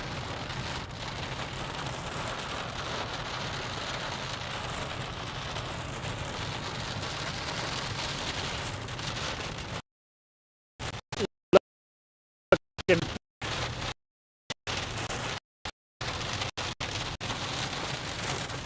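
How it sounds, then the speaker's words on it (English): Steady rain falls during a storm chase in Minnesota and Iowa, a dense, even hiss of drops on a vehicle with a constant low rumble beneath, broken by choppy dropouts in the second half. "That's where we're getting into some rain right now."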